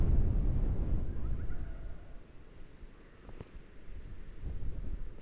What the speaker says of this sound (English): Now the wind's easing off, I can feel that.